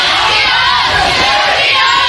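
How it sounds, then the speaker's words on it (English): A basketball arena crowd roars and yells continuously at a college game between Northwestern Rangers and Southern Nazarene Crimson Storm, a dense, loud wash of many voices with no distinct announcer speech. "Ranger crowd into this one"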